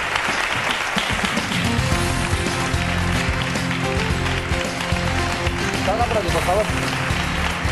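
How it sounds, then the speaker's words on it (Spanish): An audience claps for Mari with a dense, loud, continuous patter of applause that stays steady throughout, while voices talk over it. "Un aplauso para Mari."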